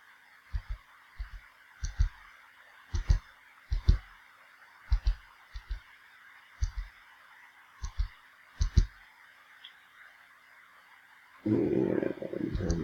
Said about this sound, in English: I'm going to type my function in